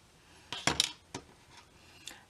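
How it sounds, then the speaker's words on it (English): Scissors snip into bobby pin craft material, a few sharp metallic clicks and snaps clustered close together with quieter ticks after, heard alone and up close. "I'm just going to go back in with my scissors and snip that first hole."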